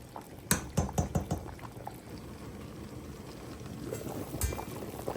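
Pork rib sinigang soup with rice-wash water bubbling in a pot, a few distinct gurgles and pops up close at first, then a softer steady simmer.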